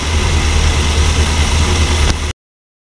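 A 1969 Mercury Marquis Brougham's 429 four-barrel V8 runs with a steady, loud, low rumble up close, then cuts off abruptly into silence.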